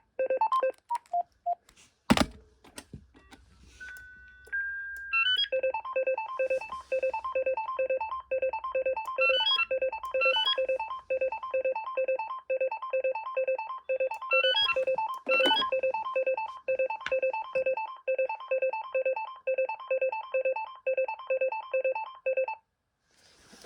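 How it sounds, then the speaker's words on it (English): A BT2200 cordless phone plays a fast electronic ringtone melody of repeated beeping notes, looping for about twenty seconds after a few keypress tones. "That ringtone is a bit annoying."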